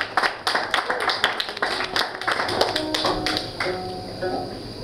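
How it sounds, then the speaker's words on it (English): Audience at a live gig in a small café venue clapping for the drummer, a short burst of close, uneven handclaps that thins out toward the end, with a voice talking over part of it. "So you'll have to clap really loudly for Craig Connie on drums."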